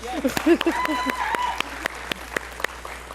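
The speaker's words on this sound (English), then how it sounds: "So I think they deserve a round of applause." Graduation ceremony audience claps in a sparse, scattered way, with separate hand claps popping out here and there and voices murmuring underneath at the start.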